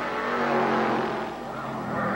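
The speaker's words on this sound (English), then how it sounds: "you can see the white car closing up on Ray Hall" IROC race cars battling for position at Mid-Ohio in 1986, a loud continuous engine roar with tire noise as the cars pass close by.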